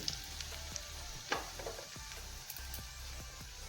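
Gram flour (besan) frying in melted ghee for methi laddu, a steady close sizzle with scattered scraping clicks and taps of a spoon stirring against the pan.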